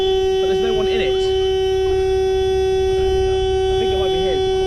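A car horn sounds continuously at a hill-climb car meet, a steady loud blare running unbroken through the whole stretch while people talk nearby.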